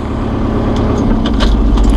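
A 2011 John Deere 5101E utility tractor shifts up through its gears in the low range, its diesel engine droning loudly and steadily, with a couple of brief clunks from the gear lever.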